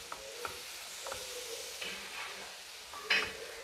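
A spoon stirs flour into mashed banana batter in a bowl, making soft, faint scraping and squishing strokes in an irregular rhythm. A sharper clink near the end stands out.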